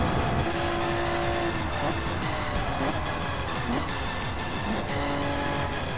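Race cars in a racing video game roar past in a loud, steady blur of engine whine, with repeated upshifts, downshifts and brief tire noise, and a commentator's voice in the background.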